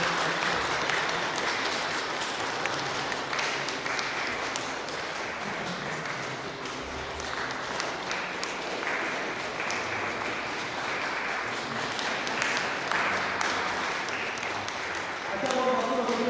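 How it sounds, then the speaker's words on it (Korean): A congregation at a Sunday church service claps in congratulation, a long continuous wash of applause filling the sanctuary, with faint voices and a few tones underneath. "박수로 축하해 주시기 바랍니다"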